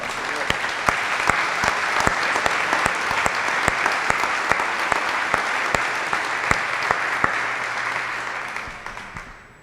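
A church congregation applauds at a Sunday service, sustained even clapping with sharp rhythmic claps standing out, fading away at the very end.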